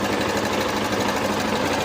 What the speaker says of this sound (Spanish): Puro sonido como de cadenilla.